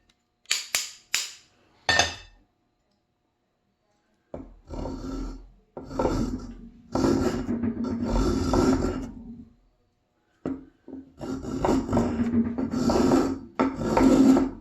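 An old restored block plane takes heavy cuts across wood in repeated rasping strokes, starting with a few sharp short scrapes and then longer shaving passes separated by pauses.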